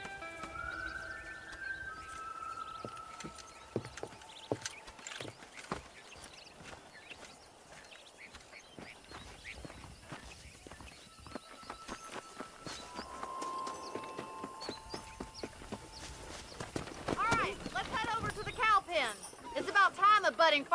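Horse hooves clip-clop at a brisk pace while riding out to herd cattle in Red Dead Redemption on PS5, with music and other game sounds layered over the steady footfalls.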